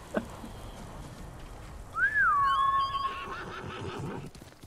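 A single horse whinny in the video game Ghost of Tsushima rises and falls clearly over a quiet background, lasting about a second with a sharp tonal quaver.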